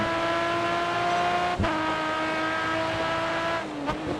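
Racing car engines in the video game GRID Autosport drone steadily at high pitch, with a brief tire screech midway and another near the end as cars slide, continuous.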